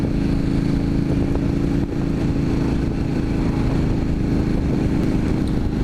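A KTM 1290 or Indian FTR 1200 motorcycle cruising in fourth gear at about 42 mph gives a smooth, steady, close engine drone with wind rush, continuous and unbroken, with no talking.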